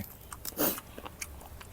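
A single crisp crunchy bite of cuttlefish followed by a few soft chewing sounds, close and fairly quiet, with no talking.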